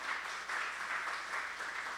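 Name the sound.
congregation applauding in church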